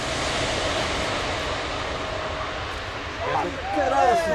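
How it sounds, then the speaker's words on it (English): An Airbus A310 airliner makes a low pass at an air show, its engines giving a broad, sustained roar that swells toward the end as a voice exclaims. "This Airbus A310 was doing a low pass when it suddenly turned left and nearly struck its wing."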